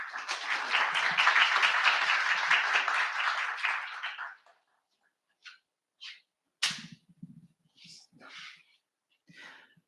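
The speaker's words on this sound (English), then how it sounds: "please give a round of applause to tonight's speakers, Professor Robert Sutter, Professor David Shambaugh" Audience applause for two professors at an evening panel on U.S.–China relations: a dense burst of clapping for about four seconds, then it stops, leaving a few scattered sounds and a brief murmur of voices.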